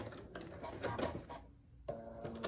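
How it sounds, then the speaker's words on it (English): Sewing machine back stitching at the end of a seam on a fabric face mask, heard as several short, quiet mechanical bursts of stitching separated by brief pauses. "we're going to back stitch at the end, like so"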